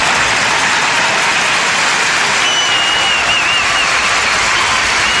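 Standing ovation from an arena crowd at a figure skating Grand Prix Final, honoring the pairs team Abitbol and Bernardis: dense, steady, loud applause with a faint whistle riding over it, continuous throughout.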